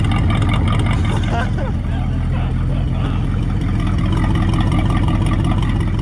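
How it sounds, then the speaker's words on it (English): A Ford Flathead V8-60 engine in a hot rod idles with a deep, lumpy rumble, steady and close throughout, with voices talking over it. "Exhaust sounds great, you guys. This is the idle."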